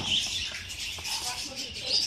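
Small birds chirp overhead in a steady, fairly faint twittering with scattered tweets, while background noise and a nearby voice sit beneath them.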